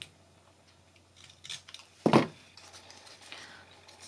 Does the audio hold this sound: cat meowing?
no